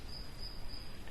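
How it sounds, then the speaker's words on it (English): A cricket chirps in a steady, continuous trill, faint and alone against quiet background hiss. "We can hear a cricket."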